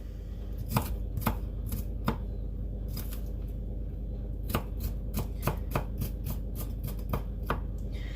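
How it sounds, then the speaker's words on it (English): A knife dices vegetables on a board for a chickpea 'tuna' salad, giving a run of crisp, sharp chops in irregular bursts, fairly close, over a low steady background hum, with no talk. "I've just diced that up and I'll add that to my dish"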